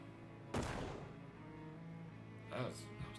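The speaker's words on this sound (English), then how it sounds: "You've seen some disappointing explosions in your life, but that one really failed to even make a dent in the cake" In the video game Shadows Over Loathing, a stick of dynamite set against a big rock goes off with one sharp, fairly quiet bang, followed by a fading rumble and a second small burst of noise.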